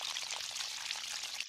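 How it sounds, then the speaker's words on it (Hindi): Cartoon sound effect of water poured onto garden plants, a soft, steady hissing trickle heard alone, faint and continuous before stopping abruptly at the end. "शिनचैन पौधों में पानी डाल रहा है।"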